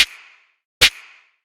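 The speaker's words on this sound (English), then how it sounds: "for the snare, I started with this snare sound that I love" Two sharp snare drum hits from a sample, spaced under a second apart, each cracking brightly then ringing out in a short tail.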